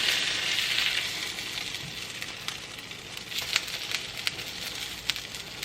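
A flipped omelette cooks in a pan over low heat, giving a soft, steady sizzle with scattered faint crackles and no talking.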